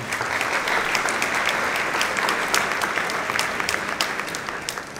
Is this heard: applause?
yes